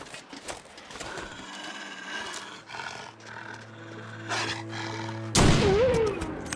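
Gunfire in The Long Dark while hunting a wolf, with a sudden loud blast late in the clip over ongoing growling, roaring game ambience.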